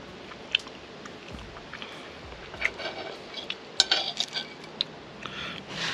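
Someone eats an egg fried outdoors under hot sun, with faint chewing and occasional sharp clinks of cutlery against a plate or pan over a quiet outdoor background.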